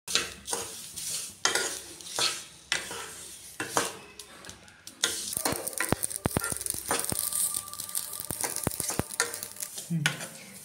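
Mustard seeds and curry leaves fry in a pan, the dense sizzle pierced by repeated clinks and scrapes of a spoon stirring against metal, busier and louder in the second half.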